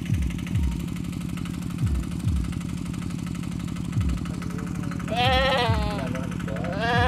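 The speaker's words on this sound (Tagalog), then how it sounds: "Kambing." A goat bleats loudly twice near the end over the steady thumping putter of an idling engine close by on a farm.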